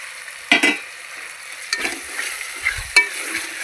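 Curry leaves crackle and sizzle in hot oil, with soft stirring scrapes and a few sharper pops standing out over a steady frying hiss, close and alone without talk.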